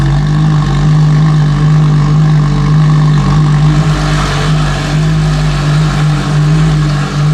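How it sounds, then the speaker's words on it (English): A loud, steady LaFerrari engine idle rumbles close by with a strong low hum, the enclosed, echoey garage adding a faint rise and fall throughout. "the idle noise in here, just idling in the garage"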